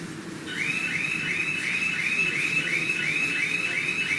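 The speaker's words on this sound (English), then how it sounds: "So security alarms with red light and siren blow with the portal" A library security gate alarm sounds at a portal, starting after a brief pause and then repeating as a steady, loud electronic warbling tone with a regular pulsing rhythm that runs to the end.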